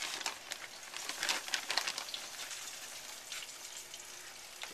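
A breaded chicken cutlet frying in olive oil, giving a steady, close crackle and sizzle with scattered bright pops and no talking.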